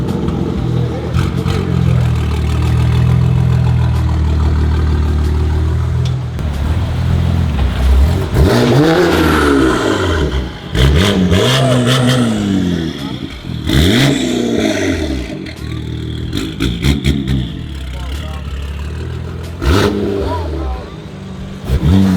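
A BMW G80 M3 engine revs hard and pops, shooting flames from the exhaust, with loud, uneven bursts of roaring and crackling close by while people talk over it.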